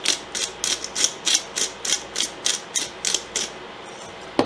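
A pepper mill grinds pepper into a pot of lobster bisque in a steady run of about fifteen rhythmic, close, crisp ratcheting cranks, with no voices.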